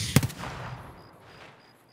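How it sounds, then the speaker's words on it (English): A single sharp gunshot in Escape From Tarkov, during a night raid on the Lighthouse map, with a quick follow-up crack and a fading echo tail that dies away to near silence. "I don't know where these shots are going."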